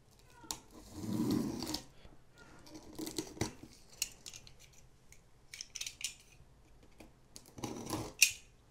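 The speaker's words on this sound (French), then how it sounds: "Nous allons, sans perdre de temps, procéder à l'ouverture de cette box. Avec comme objet un simple cutter." Utility knife cutting open a cardboard food subscription box: quiet, irregular scraping, slicing and rustling strokes spread across several seconds, with a louder rasp near the end.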